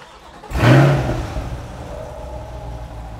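A McLaren 650S engine cranks and fires with a sudden loud surge, briefly revs, then settles into a steady low idle.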